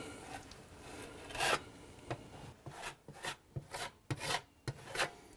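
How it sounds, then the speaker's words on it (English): A trowel scrapes and smooths base coat plaster over a patched wall, giving a series of close, rasping strokes in short bursts with brief pauses between them. "Now it's just a matter of smoothing out all of the base coat 45 that's underneath and making sure we've got a good adhesion."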